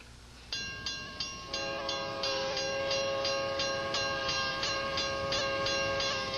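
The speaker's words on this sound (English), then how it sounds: "Now the train's going, making this different kind of horn, which I've never heard." A train horn blares in a long series of loud, rhythmic honks, each repeating tone pulsing steadily over the rumble of the train.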